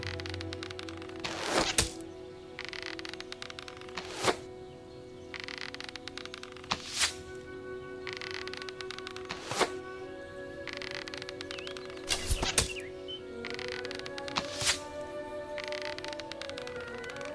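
Arrows loosed at targets in Fable Anniversary, each a sharp thunking impact arriving every couple of seconds, some in quick pairs, over quiet ambient birdsong and a soft background hum.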